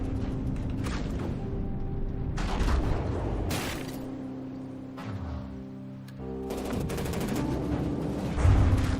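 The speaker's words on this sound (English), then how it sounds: "the targets are being completely annihilated by just the general bombardment of main battle tanks" Main battle tanks bombard targets in the video game From the Depths, giving repeated overlapping bursts of gunfire and booms with a steady rumbling battle bed underneath, fairly loud and continuous with heavier blasts near the end.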